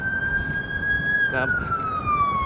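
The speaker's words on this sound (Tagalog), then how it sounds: "oh, ambulansya na EMS" An EMS ambulance siren wails in a steady rising and falling tone over traffic and wind noise in Edmonton's river valley, with a brief burst of other noise midway as it passes.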